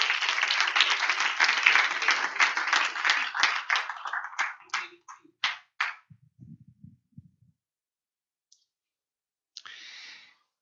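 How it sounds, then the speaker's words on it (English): A church congregation gives a hearty round of applause at a Sunday evening service. Dense clapping fades into scattered, separate claps, then silence, with a brief final burst near the end. "Give him a big hand clap of praise."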